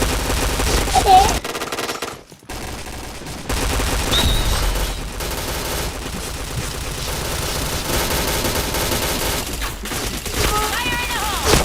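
Dense automatic gunfire from a shooter video game rattles on nearly without pause, loud and close, with a brief drop near the two-second mark before the bursts resume over steady background game noise.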